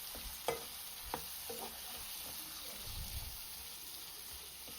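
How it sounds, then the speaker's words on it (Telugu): Quiet stirring of green peas coated in masala in a cooking pan for veg biryani, with a couple of soft scraping knocks early on over a faint, steady background hiss; no speech. "ఇప్పుడు గ్రీన్ పీస్ వేసుకొని బాగా కలియదిప్పాలి."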